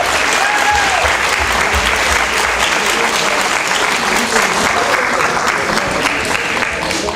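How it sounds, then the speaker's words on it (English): Sustained applause from a commencement audience honoring graduates, a loud, continuous roar of many hands clapping at an even level from start to finish, with faint voices blended in. "let's give these soon-to-be graduates a big round of applause for being here tonight"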